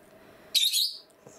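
A yellow pet parrot gives a single bright, high chirp over quiet room hum, near and clear, followed by a faint soft click.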